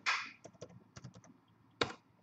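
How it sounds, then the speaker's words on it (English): Typing on a computer keyboard, close and clear: a loud initial clack followed by a quick run of light key taps and a final firm press, with no talking. "Let's go ahead and type in live"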